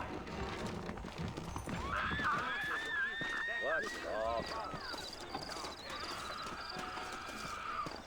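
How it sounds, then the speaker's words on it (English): In the Red Dead Redemption video game, horses whinny loudly and close by over steady hoof clip-clops. People talk at the same time. "You ain't gonna find sturdier horses than these in all of New Ulster."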